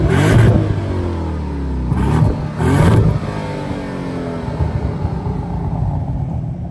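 A 2025 Porsche Panamera Turbo S E-Hybrid with rear-wheel steering gives loud close revs: a deep rising roar, then two sharp blips in quick succession, settling into a steady low rumble at idle.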